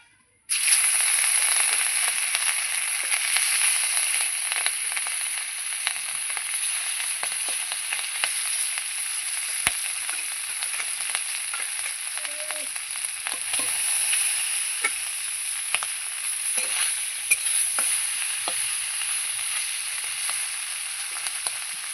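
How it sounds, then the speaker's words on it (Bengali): Pieces of hilsa fish sizzle steadily in an oiled pan, a close, loud, unbroken hiss studded with frequent sharp pops and spits over about twenty seconds, with no voices. "এবার আমি মাছগুলো দিয়ে দেবো"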